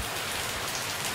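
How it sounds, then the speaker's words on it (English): Rain falling steadily outdoors, a dense even hiss of drops pattering on surfaces, moderately loud and continuous with no other sounds. "hope you can hear the sounds of the rain in the background"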